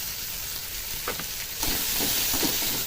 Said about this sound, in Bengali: দেখুন বন্ধুরা মশলাটা কিন্তু কষানো হয়ে গেছে